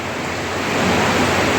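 Heavy rain falls outdoors at Devbhumi Ramandham in Detroj during a religious discourse, a dense, even hiss that stays constant and fairly loud, with no voices over it.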